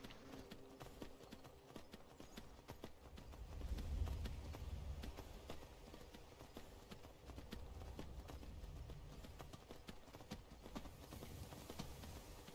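Horse hooves clopping in Skyrim, a steady rapid clip-clop of a ridden horse on the move for over twelve seconds, fairly faint and continuous, with no talk over it.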